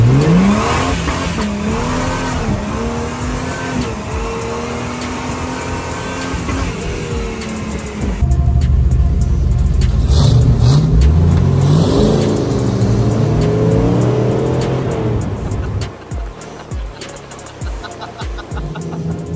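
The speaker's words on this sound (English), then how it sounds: "You drag race a gladiator?" Jeep Gladiator and other cars drag racing at an off-road adventure event, with loud engines revving and accelerating hard, tires squealing, a deeper roar surging in midway and fading toward the end, with faint voices underneath.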